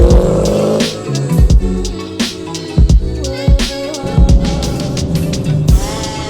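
A 2017 Chevrolet Camaro SS with an uncatted exhaust, its engine revving loud and close in repeated sharp bursts with crackling pops between throttle blips.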